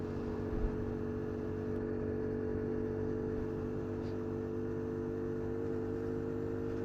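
A restricted Bullit Heritage 50cc motorbike engine drones steadily and close, its pitch gradually rising as it accelerates in fourth gear, with a constant low rumble throughout.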